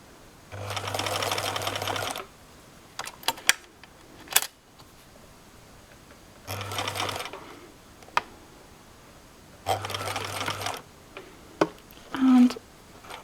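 A sewing machine top stitching a Greer jumpsuit romper in shifty solid fabric runs in three separate bursts of steady whirring, with a pause and a few small clicks and taps between the runs.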